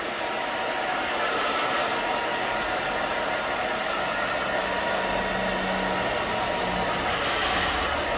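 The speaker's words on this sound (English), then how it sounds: "you can see how my fingers and the blow dryer are going the whole time" A hair dryer blows steadily and loudly throughout, a constant whooshing roar with no pauses and no talking.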